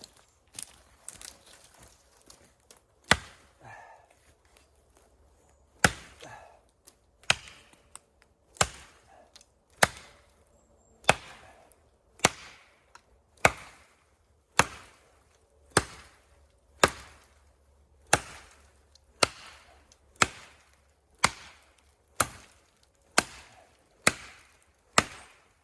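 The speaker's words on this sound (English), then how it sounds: "let's see if we can cut down a smaller tree here" A Condor Atrox axe chops into a small tree in the woods, each sharp, close thunk landing alone at an even, deliberate pace of roughly one strike per second, with a few softer knocks at the start.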